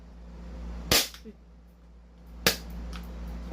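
Two sharp, loud cracks from a replica Glock 17 pistol, about a second and a half apart, each with a brief ringing tail over a low steady hum.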